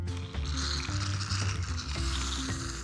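A can of shaving foam hisses and sputters as foam is sprayed out in a steady fizzing rush with brief pauses, heard close up.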